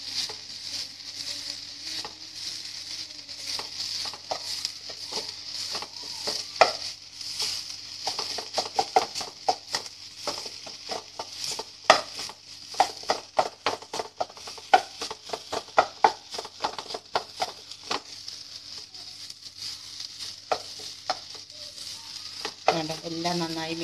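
Onion and spices (chili powder, garam masala) frying in ghee over a low flame while being stirred, a soft steady sizzle broken by frequent quick scraping and tapping strokes of the spoon, close up with no speech.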